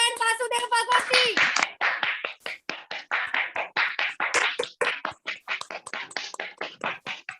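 An audience claps in welcome at a business presentation, starting with fast uneven clapping that settles into steady rhythmic unison claps, close and loud, with a voice at the start.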